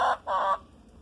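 Chickens in a large pasture give two short, close clucks in quick succession, then quiet.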